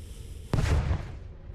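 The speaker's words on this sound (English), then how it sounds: "we're blowing up rocks now" Video-game explosion blowing up rocks, a single sharp boom halfway through followed by a short rumbling decay, over quiet background.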